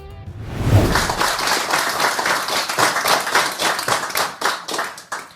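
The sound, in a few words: applause, clapping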